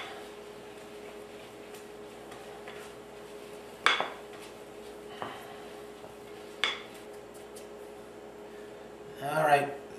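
A spoon works stiff Greek butter cookie dough (koulourakia) in a bowl, soft scraping under a faint steady hum, broken by a few sharp clinks against the bowl; a voice is heard briefly at the end.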